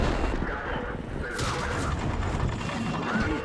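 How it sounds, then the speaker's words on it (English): Tank fire in World of Tanks as an LTP light tank shoots APCR rounds, heavy booms and crashes over a dense rumbling battle bed, with one sharper impact standing out midway. "this LTP is firing APCR and is going through my armor."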